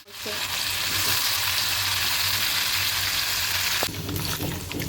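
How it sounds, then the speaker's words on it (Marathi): Paneer frying in hot oil gives a loud, steady, close sizzle that hisses continuously, with a brief shift in texture near the end as the pieces are moved. "हे पनीर असं तळून झालं की त्याच्यातलं तेल नितरून घ्यायचं आणि काढून घ्यायचं."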